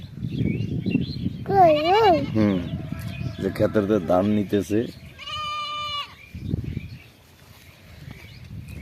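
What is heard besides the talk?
goat bleating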